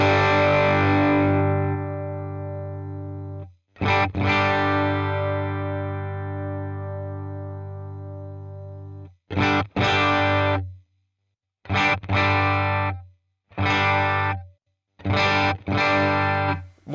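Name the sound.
guitar through Fractal Fender Deluxe Vibrato amp model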